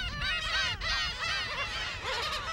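Dense chorus of black-tailed gulls and other seabirds calling over each other at a breeding colony on Dokdo island, loud, overlapping honking and mewing cries filling the whole stretch without pause.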